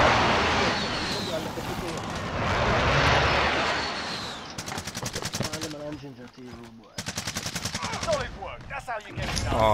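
A jet engine roars overhead during a precision airstrike in Warzone, swelling loud and broad over the first few seconds, then giving way to rapid bursts of gunfire while voices talk throughout.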